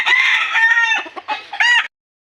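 A red backyard rooster gives loud, close clucking and squawking calls in a continuous burst, ending in a short crowing-like flourish before falling silent.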